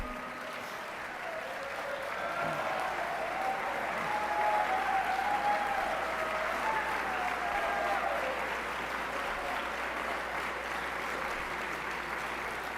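A large assembly hall at Arkansas Boys State fills with sustained crowd applause welcoming colleagues onto the stage, a dense, even wash of clapping that swells and holds for several seconds.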